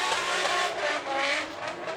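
Kevin Quinn's 700-horsepower Nissan 180SX drift car slides through a corner at a British Drift Championship qualifying run, its engine roaring loud and close with tire scrub over a sustained, strained note.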